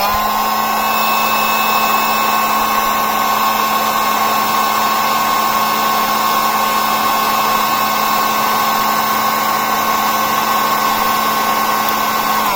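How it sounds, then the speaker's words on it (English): Heat gun aimed at a fire alarm heat detector on a zone during system testing, a steady, loud whining blow with a constant hum and no break from start to finish. "I got a heat gun, so we go ahead and test that detector up there"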